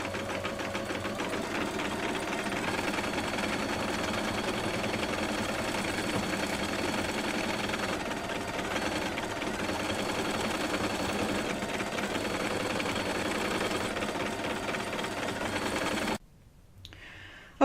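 An embroidery machine stitches a signature, its steady rapid needle chatter running loud and continuous before cutting off abruptly near the end.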